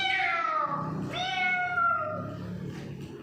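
A child imitates a cat, giving two drawn-out, rising and falling meows in a clear close voice, the second a little longer than the first.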